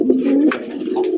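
Pigeons coo steadily in a loft or market, a low throaty warbling call repeating close by and fairly loud with no talk over it.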